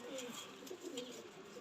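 Soft, low pigeon cooing repeats in a steady rhythm at close range inside a wire-mesh enclosure, with faint rustling around it.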